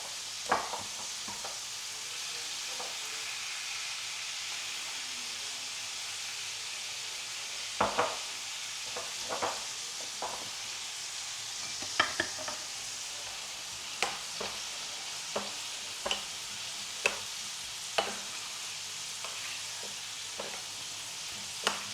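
Crispy chicken fries in a pan under a constant soft sizzle, while a spoon stirs and taps the pan in a dozen or so sharp, close clicks and scrapes.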